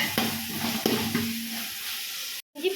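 Ginger garlic paste for prawn biryani sautés in a pan, giving a soft sizzle that a few spoon scrapes and taps interrupt, close and fairly quiet, before a brief silence.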